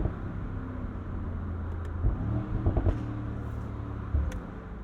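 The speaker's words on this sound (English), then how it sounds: "your downshifts elicit this noise" Mercedes-AMG SL 63 engine in manual mode, a steady low drone broken by brief blips and burbles as it downshifts, with several short pops near the middle and end.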